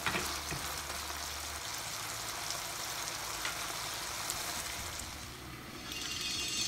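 Pepper chicken with curry leaves frying in a pan, giving a steady, dense sizzle with occasional light scrapes and clicks throughout.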